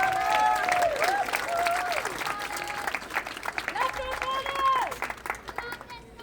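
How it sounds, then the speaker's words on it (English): An audience applauds at a youth hoop dance championship in Santa Fe, with sustained clapping and cheering from a crowd. An announcer's amplified voice talks over the applause. "Let's bring her out with a big round of applause."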